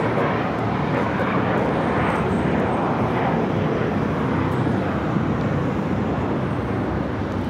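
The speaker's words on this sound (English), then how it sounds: "Air Canada 737 at MAX 8 heading over to Terminal 6 here on the south side" Air Canada Boeing 737 MAX 8 taxis at Los Angeles International Airport, giving a steady, broad jet-engine roar at moderate distance that holds constant throughout with no talking.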